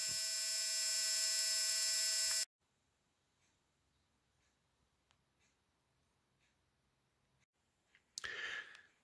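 A small electric motor in a Dalek model build whirs loudly and steadily for about two seconds, then cuts off, leaving near silence with faint handling clicks and a brief rustle at the end.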